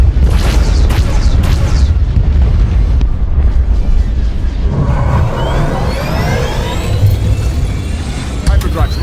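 Explosions and booming blasts from enemy starships opening fire in the Star Wars: The Old Republic video game, loud and continuous rumbling with whooshing streaks, under a voice speaking.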